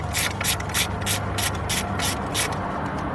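A hand ratchet backs out 10-millimeter bolts from the engine's center cover on a 2003 Hyundai Santa Fe, giving a steady, close, loud run of rapid clicking bursts about three per second, with no talking.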